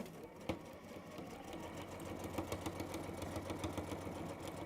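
A sewing machine stitches through fabric from the top side, its needle hammering in a quick, even rhythm after a brief start, close and quiet with no talk.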